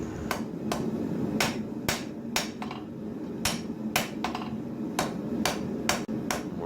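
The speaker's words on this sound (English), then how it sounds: "This particular rounding hammer is a Farrier style rounding hammer." A 2.5-pound farrier-style rounding hammer strikes hot steel while forging a knife tip, sharp ringing blows in an irregular steady rhythm, about a dozen hits over a low background hum.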